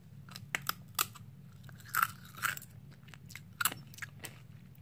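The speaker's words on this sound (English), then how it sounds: "I was trying to make a crunch sound." Slime is squeezed and bitten to make crunchy sounds, a series of close, sharp crackling crunches at irregular intervals over a low steady background hum.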